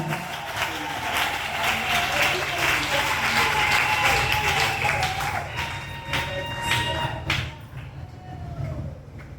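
A congregation applauding at a church celebration of a 25th wedding anniversary renewal, sustained dense clapping with scattered cheers and voices that fades toward the end.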